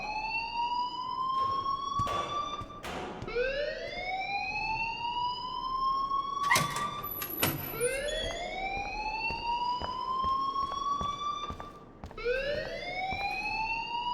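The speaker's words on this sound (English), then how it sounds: "please turn off that alarm since that's your job." A school alarm in the video game Life is Strange wails in repeated rising siren sweeps, loud and continuous, with clicks and bumps scattered over it.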